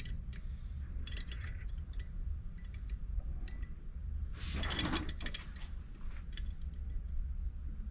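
A Kansai Special DLR/DFB series sewing machine mechanism turning by hand during a rear puller change, producing faint, scattered mechanical clicks and ticks over a low hum, with one louder rattling burst midway.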